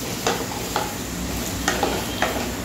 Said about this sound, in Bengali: তো আমি এখানে আলুটা ভেজে নিচ্ছি ভালো মতো।